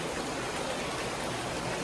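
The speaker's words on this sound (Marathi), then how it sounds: "पाऊस आलाय नाशिकचा पहिला पाऊस आहे" Steady, dense rainfall in Nashik at the start of the monsoon season, a continuous close-up hiss of drops spreading evenly across the whole span with no voices.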